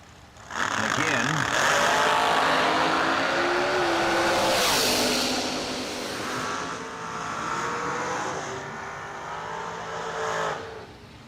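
Drag racing cars launch down the strip at a Summer Fling event, a loud sustained engine roar building quickly and holding, then easing and surging again before fading, with an announcer talking over it.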